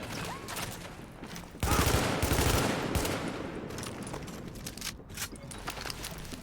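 Rapid assault sniper rifle fire in The Division, a loud close volley that erupts and repeats in quick succession, with further shots continuing more faintly afterward.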